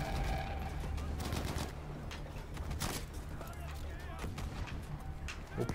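A heavy-recoil firearm is fired in Battlefield V's single-player campaign: repeated booming shots over a dense, continuous wash of battle noise and music, while someone talks over it.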